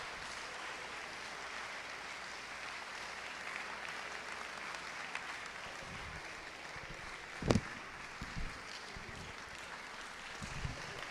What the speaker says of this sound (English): If we could give another round of applause